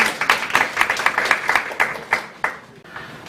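Audience applause at a Korean food-policy forum welcoming a research fellow to the podium: a moderate burst of many hands clapping with distinct sharp claps, fading out toward the end.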